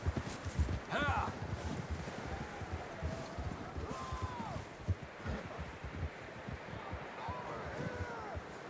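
Horses walk along a windy trail, hooves clip-clopping in a steady uneven rhythm close by, with gusting wind noise over the microphone and a few brief vocal sounds.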